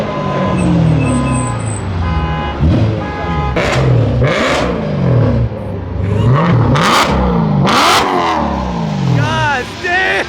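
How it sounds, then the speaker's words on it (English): A BMW M3 engine with its tune removed revs repeatedly, each rev a rising and falling sweep in a strong, loud rhythmic cycle heard up close, with a continuous throaty drone between revs. "it's literally the best sounding M3"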